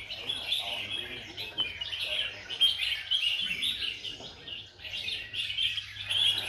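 Red-whiskered bulbuls sing at an outdoor bird song contest in Binh Duong, their bright chirping phrases overlapping continuously from several birds at close to middle distance, with a low steady hum beneath.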